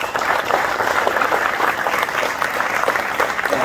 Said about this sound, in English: I want to give a round of applause for our panelists here.